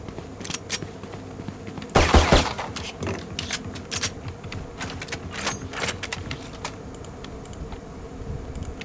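Sniper rifle shots in the video game Valorant: a loud burst of sharp cracks near the two-second mark, followed by scattered lighter clicks and game sounds.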